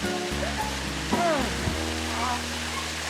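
A summer mountain valley stream flows in a steady, loud rush of water, with a musical background and a brief voice above it.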